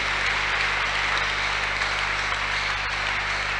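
A church congregation claps hands together in a steady, dense wash of applause with an electrical hum underneath, and no distinct individual claps stand out.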